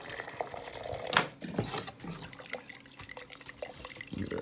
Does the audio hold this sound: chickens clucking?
no